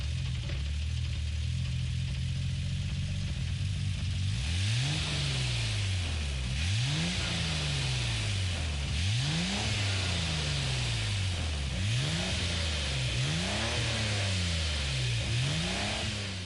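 A race car engine in Gran Turismo steady at first, then revving in a series of about six rising sweeps through the gears, loud and continuous with no voices.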